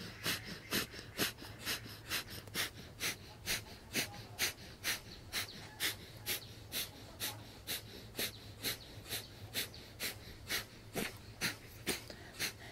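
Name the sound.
breath of fire, rapid yogic breathing pumping the navel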